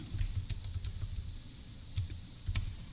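Close, steady typing on a computer keyboard: a brisk run of light key clicks, a short pause, then a few more isolated taps, with no speech.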